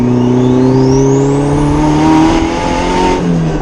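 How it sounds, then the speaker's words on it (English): A twin-turbo Honda Civic engine revs hard with a rising turbo whine, ending in a short whooshing release as the wastegate opens and the throttle eases. "That was wastegate opening."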